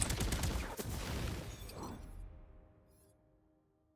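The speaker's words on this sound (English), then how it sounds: "we got a Blazing Volley, which is a really good homing burst fire SMG" Homing burst-fire SMG shooting in a video game, a dense rapid volley of shots with a swooshing tail that fades out over a few seconds, no talking.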